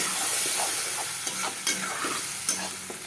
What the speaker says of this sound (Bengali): আমি যে মশলাটাই করে নিলাম, মশলাটাই এখন ভাজবো।